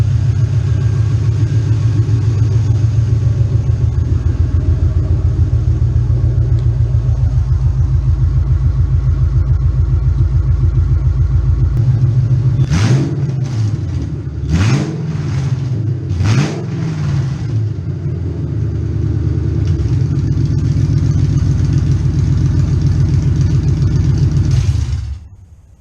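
A 2002 Mustang GT with a 2-valve 4.6 V8 runs on open long-tube headers, a loud, steady, throaty rumble near the car, interrupted midway by several sharp revs that rise and fall before the engine cuts off at the end.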